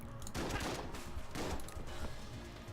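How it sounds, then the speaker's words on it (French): Shotgun blasts in the video game Enter the Gungeon, two loud bursts of rattling gunfire about a second apart, each trailing off, with game background noise in between. "Bon, par contre, bon, il est puissant le fusil à pompe, hein."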